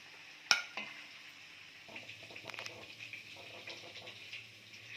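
Salted paneer frying in a pan for a simple paneer curry; a soft, quiet sizzle with a sharp clink at the start and light stirring taps scattered through.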